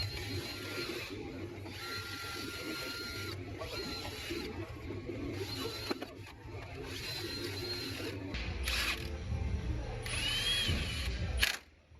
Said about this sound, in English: I like to grab my little drill brush, and I just run across the edges right here.